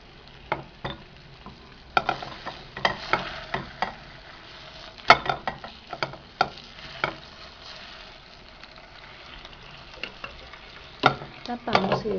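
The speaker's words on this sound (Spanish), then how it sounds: "Vamos revisando la pechuga y le damos vuelta para que se cocine por el otro lado." Chicken breast fries in a pan with a steady, close sizzle. Sharp scrapes and clacks break in as it is stirred and turned.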